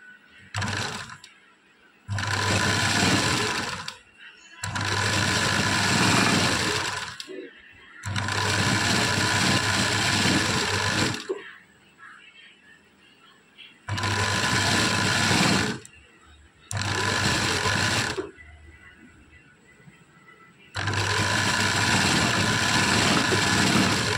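Electric sewing machine stitching the waistband onto a blouse, running in repeated bursts of steady, loud mechanical whirring with short quiet pauses between runs, no voice.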